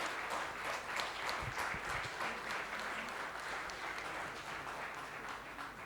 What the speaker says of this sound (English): I request all the participants to applaud and for the IBBI and IIM together.